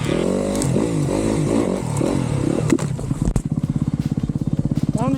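A 2025 Yamaha YZ250FX dirt bike engine sweeps through corners on a grass track, revving and easing off with clutch work before settling into a steady, close, pulsing drone that rises again at the end.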